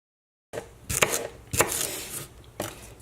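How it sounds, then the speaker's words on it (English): A knife chops through celery stalks on a cutting board in several sharp, irregular strikes, with a couple of close, crisp bursts separated by short pauses and no talking. "And now I'm chopping up some stalks of celery."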